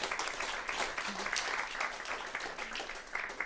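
A conference audience at a food, agriculture and climate event applauds steadily, a dense continuous wash of clapping from many hands in a hall, sustained at even loudness throughout with no talk over it.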